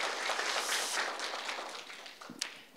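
A church congregation gives a round of applause to welcome a member: many hands clap in a dense patter that slowly fades, ending with a few scattered sharp claps.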